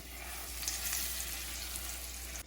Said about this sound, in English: we're just gonna add half a cup of butter to the bottom and let that melt, so stir that around